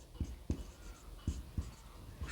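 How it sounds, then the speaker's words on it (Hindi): Writing on a board during a classroom grammar lesson: a few quiet, short strokes and taps spaced irregularly over a soft room background, no talking. "तो यहां लिखेंगे"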